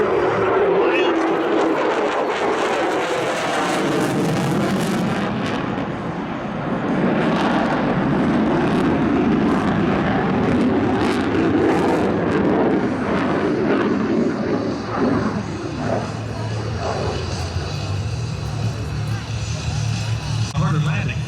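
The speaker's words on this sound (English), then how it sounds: "Here comes the carrier freight. 350 knots test." An F-35C Lightning II carrier jet roars past on its landing approach, a loud, broad engine rush that swells, dips briefly, then rumbles on as it moves away.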